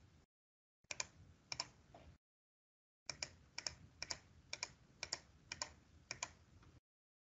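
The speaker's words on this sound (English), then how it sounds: "I'm now going to type second enter." Typing on a computer keyboard while entering values into an online math graphing tool: bursts of close, crisp key clicks in short groups, separated by brief silent gaps, with no voices.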